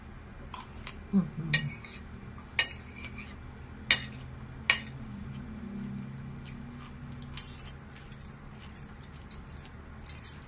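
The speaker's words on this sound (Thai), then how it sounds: "ลองเอาไปคลุกในกระพะดูนะคะ" Metal spatula scrapes and clinks against a wok while Thai basil fried rice is tossed, sharp isolated taps spaced a second or so apart over a quiet low hum.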